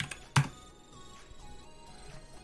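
A few scattered keystrokes on a computer keyboard, with one sharper, louder key strike near the start followed by faint, sparse clicks against a quiet background.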